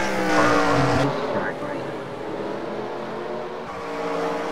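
Race cars in the NASCAR Racing 2003 video game roar past on the Bristol track, a loud engine drone that rises and fades as cars go by, with a commentator talking over it.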